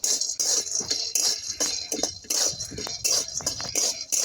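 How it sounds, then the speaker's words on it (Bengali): Peanuts dry-roast in a karahi without oil, making rhythmic close clinks, rattles and scrapes as they are stirred in quick repeated strokes. "এটা শুকনো খোলায় ভাজবো"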